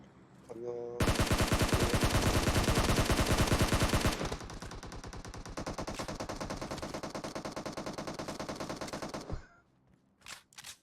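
Sustained automatic gunfire in the battle royale game PUBG, a dense rapid burst that fills several seconds, drops to a slightly quieter stream of shots, then stops with a few scattered sounds after, with no talk over it.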